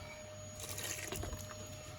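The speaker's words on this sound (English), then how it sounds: "So I'm adding 500 ml of water. This is water with ginger." Ginger-infused water, about 500 ml, poured into a pot for jollof rice, a soft splashing trickle heard up close at low level with no talking.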